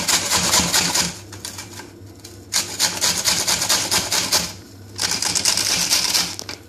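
A knife shreds onion on a chopping board, rapid rasping cuts in steady bursts separated by short pauses, close and fairly loud, no talking, for a British Indian restaurant style mixed vegetable curry.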